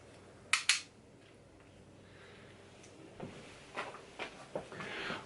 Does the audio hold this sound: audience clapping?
no